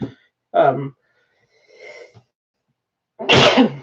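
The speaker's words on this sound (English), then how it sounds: "you just deal with my sneeze" A single sharp sneeze bursts out near the end, preceded by a quick intake of breath and a few faint sounds in an otherwise quiet room.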